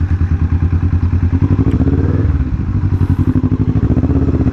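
Kawasaki Vulcan S motorcycle climbing an uphill road near Tagaytay, its engine a loud, steady, close throb with rhythmic pulsing and occasional thuds and clatter from the bumpy surface, no talk.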